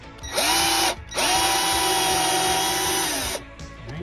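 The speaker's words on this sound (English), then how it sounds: "And then you want to pre-drill some holes right about here in the middle." A handheld power drill bores pilot holes into wood, whining loudly and close up in two runs, a short burst then a longer steady spin that winds down, with no talking over it.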